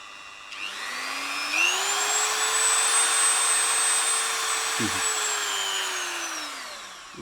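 Dremel 3000 rotary multitool whining steadily and loudly, its pitch climbing as speed rises, holding high, then winding down near the end, with a brief knock midway and no talk.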